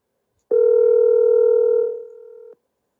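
A telephone line tone on a call-in show sounds once, a steady two-second electronic tone that drops in level before cutting off, clear and alone with no talk.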